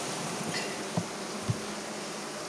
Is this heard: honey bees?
yes